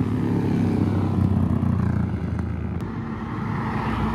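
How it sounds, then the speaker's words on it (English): Several motorcycles pull away together from a Japanese car meet in Reading, a steady loud engine rumble filling the whole stretch with a brief sharp pop near the end. "All the bikes leaving at once."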